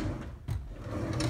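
A kitchen drawer in a flat slides open or shut, a short muffled rolling scrape with a soft knock partway through.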